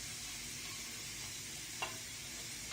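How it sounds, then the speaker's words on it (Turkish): Vermicelli (şehriye) sautés in corn oil in a pan for rice pilaf, giving a soft, steady sizzle with a couple of faint scraping stir sounds. "Şehriyeyi kavuracağım"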